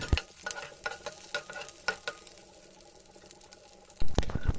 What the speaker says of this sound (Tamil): நல்லா எண்ணெயில் வறுபடட்டும்